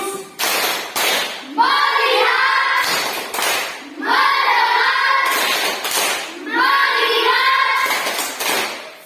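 A fourth-grade class performs a rhythmic clapping routine: loud, evenly spaced bursts of claps in repeating groups, alternating with children chanting words in unison between the claps.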